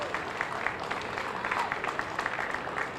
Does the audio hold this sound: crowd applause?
yes